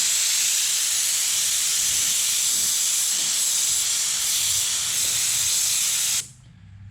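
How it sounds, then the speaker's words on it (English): A spray gun lays a coat of car paint on a panel in a steady, loud, bright hiss that runs unbroken for about six seconds, then cuts off abruptly into quiet. "We're going to blow it, tack it, and hit it with a coat"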